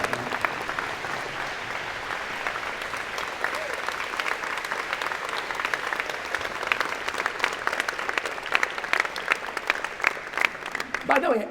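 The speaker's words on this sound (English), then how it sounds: "please stand and give them a big round of applause" Convocation crowd at a college of engineering and computer science gives a long, sustained round of applause for outstanding students, clapping building and growing sharper toward the end with faint voices underneath.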